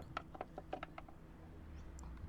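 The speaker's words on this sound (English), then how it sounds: "Once you have all the bolts out, the timing cover should just slip out" A timing cover comes off a Toyota Hilux engine with a series of light metallic clicks and scrapes, close and fairly faint, then a quieter stretch.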